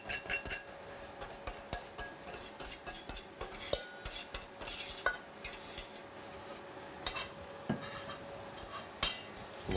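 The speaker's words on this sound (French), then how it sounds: "on va récupérer nos œufs et puis on va les mélanger tout simplement" Whisk beating eggs in a bowl, a steady run of quick metallic clinks and scrapes, close and fairly quiet with no talking.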